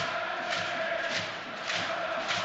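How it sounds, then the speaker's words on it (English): Home supporters at Leicester City's King Power Stadium during a Premier League football match against Manchester United, a steady distant roar of crowd noise with gentle swells and no clear chants. "the home crowd in good voice here at the King Power Stadium"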